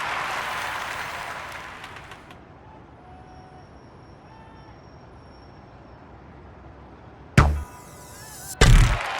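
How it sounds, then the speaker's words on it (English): Arrows from the London 2012 video game archery event thud into the target board: two sharp, loud impacts near the end, a second apart, after a long quiet stretch of low ambient hum. "Thuds into the board. Resounding sound, that."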